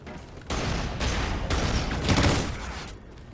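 Gunfire from a weapon in the video game Call of Duty Ghosts, a loud, dense stream of shots running continuously for about two and a half seconds with slight pulses in intensity.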